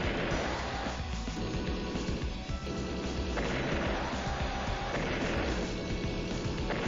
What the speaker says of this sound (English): Looks like nothing will be in range with this rocket. Takes out that anti-air.